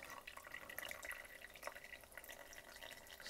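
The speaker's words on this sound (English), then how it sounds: "Just let the water drain a little bit." Water draining off soaked sphagnum moss during tarantula enclosure maintenance, faint scattered drips and trickles close by, continuous and quiet, with no talk.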